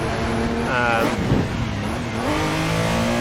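A Porsche engine in the Assetto Corsa driving game hums steadily and loud the whole time, its pitch lines sliding upward near the start and again near the end as the car revs. A voice talks over part of it.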